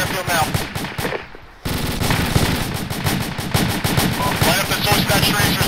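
Sustained automatic gunfire rattles in a military tactical shooter game, loud and dense, with rapid overlapping bursts that pause briefly before resuming as a continuous close-range barrage, with voices talking over it.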